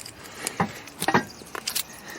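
Keys jangling in short metallic bursts, a few brief clinks and rattles close by, separated by quiet gaps.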